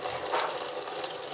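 Water runs from a tap and splashes, a steady close hiss of flow with small scattered splashes throughout, and no voices.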